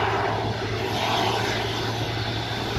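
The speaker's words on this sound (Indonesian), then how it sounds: "pesawat mundur ke arah utara, dan pesawat ini akan menuju ke selatan ke ujung runway" A Scoot passenger airplane being pushed back toward the runway, a steady loud engine whine and roar with a constant low hum, unbroken throughout.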